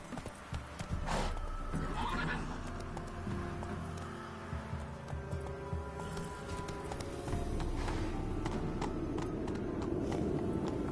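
A horse in The Witcher video game neighs loudly, then gallops with steady clip-clop hoofbeats, close and continuous.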